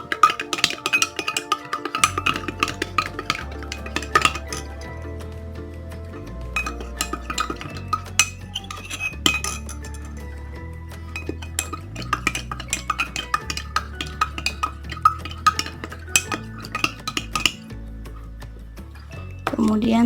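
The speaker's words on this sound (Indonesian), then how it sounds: "Kemudian aduk hingga tercampur rata atau homogen." An oral suspension is stirred in a glass in a pharmacy lab, with light, irregular clinks and taps of the stirrer against the glass under steady background music and voice.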